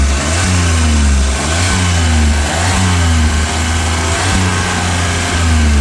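A Smart car with stock exhaust revs close up, its engine note rising and falling through several throttle blips over a steady, loud idle rumble.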